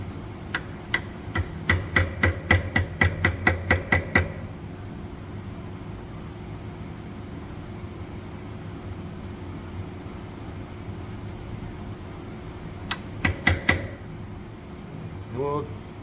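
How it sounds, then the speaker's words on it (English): Chisel strikes cutting into a wooden bedroom door, a quick run of about ten sharp taps, then a short second burst near the end, close and clear over a quiet room hum. "chisel out the whole thing that way, just like on the touching the line, but on the inside"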